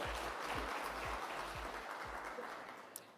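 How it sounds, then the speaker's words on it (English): A round of applause at a sustainability report unveiling, steady clapping heard faintly and at a distance over a low rhythmic thumping, with a brief sharp tap near the end. "Let's give him another round of applause"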